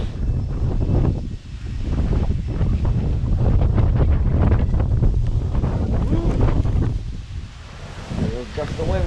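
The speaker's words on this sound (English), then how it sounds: "There goes gust of wind." A strong gust from Hurricane Delta on Grand Cayman roars and buffets the microphone outdoors, a steady heavy rumble that swells and eases, with a person talking over it.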